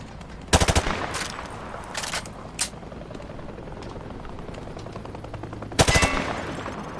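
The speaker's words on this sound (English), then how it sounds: "He sprayed bullets all over the damn place." Video game gunfire fired from the hip comes in loud automatic bursts, a few short rapid volleys separated by pauses, with a longer burst near the end.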